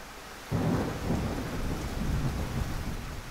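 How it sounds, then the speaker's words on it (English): Thunder effect from a Godot game project: a deep rumble bursts in and rolls on loudly and steadily with a rain-like hiss, close and alone without voices. "we have to wait for the thunder"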